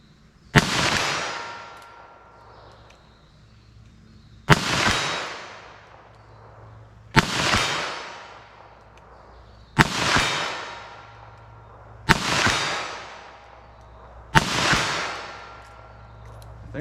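Six .22 Magnum Speer Gold Dot rounds fired at a steel target outdoors, each a sharp loud crack with a decaying tail, spaced a few seconds apart, with no voices.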